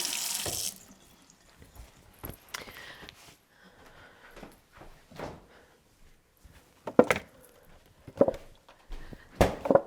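Water runs from a kitchen tap while someone washes their hands after handling chicken, a steady low splash interrupted by louder bursts of spray and clatter, with quiet gaps between.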